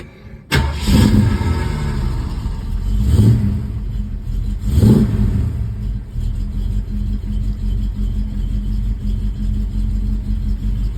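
A 1965 Ford Mustang cranks and fires up, followed by two sharp revs and then a loud, steady, rumbling idle with some rattle.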